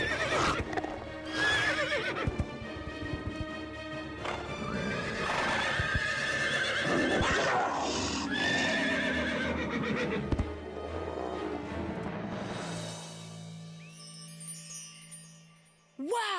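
In an animated scene, horses whinny several times over a run of clip-clopping hooves, loud and busy, with a music-like bed and a voice speaking briefly near the close.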